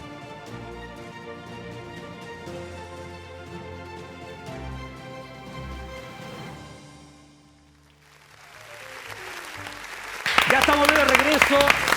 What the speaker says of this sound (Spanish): aplauso después de esta hermosa invitación